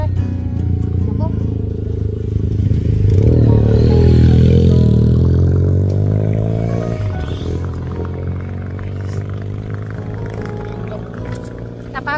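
A motorcycle whose chain has snapped revs its engine in a rising, swelling drone that peaks midway and then slowly fades, with people talking nearby.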